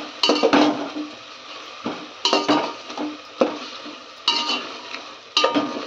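A spoon stirring and scraping spices in a metal pot for village-style bagara rice, repeated clanks and rough scrapes in an uneven rhythm, close and fairly loud with no talk.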